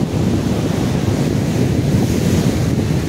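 Ocean waves surging and breaking at Juhu beach, Mumbai, a steady, loud, broadband roar of surf with heavy wind buffeting the microphone throughout.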